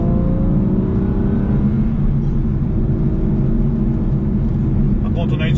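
An Aston Martin's naturally aspirated V12 drones loudly and steadily, a thick low rumble from close up that holds even throughout the stretch.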